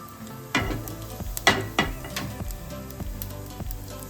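Cumin seeds hitting hot oil with mustard seeds while tempering poha idlis, a sizzling hiss with several sharp crackling bursts and spoon-stirring clicks, close and moderately loud.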